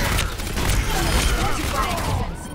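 Steady rattling turret fire in an Overwatch ranked match chatters on loudly and densely, with other game effects mixed in and fading slightly near the end.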